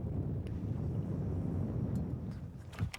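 Steady, heavy wind buffets the microphone outdoors on a bass fishing outing, with a low, continuous rumble throughout, without speech.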